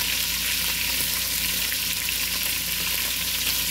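Lamb meat sizzles steadily as it browns in a frying pan for a spicy tomato stew, with continuous close frying crackle and no talking.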